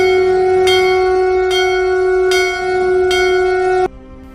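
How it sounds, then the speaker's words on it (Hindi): Temple bells ring loudly and close, four clear metallic strikes about a second apart, each leaving a long sustained ringing tone, with no voices. "बड़ी ज़ोर ज़ोर से मंदिरों की घंटियों और शंख की आवाज़ सुनाई देने"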